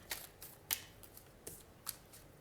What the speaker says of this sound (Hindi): कार्ड्स मैं इंट्यूटिवली निकालूंगी